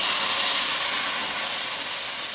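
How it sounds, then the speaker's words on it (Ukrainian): Water poured into a hot frying pan of browned flour hisses and steams loudly and steadily, a broad sizzling rush that fades slightly toward the end. "Наливаю 300 мг води"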